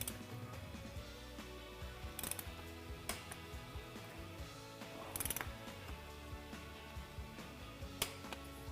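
Ratchet wrench torquing ten cylinder head bolts to 40.6 foot-pounds during a cylinder head rebuild with new valves and springs, giving steady close mechanical clicking with a few sharper clacks and no talk.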